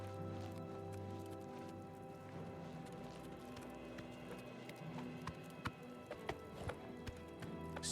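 Rhythmic hoofbeats clip-clop steadily over a low ambient hum, a horse moving at a walk in the video game Oblivion, with no one speaking.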